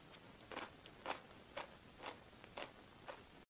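Crunchy bites into a piece of fermented onion, about six soft rhythmic crunching bursts spaced roughly half a second apart, close and quiet with no talking.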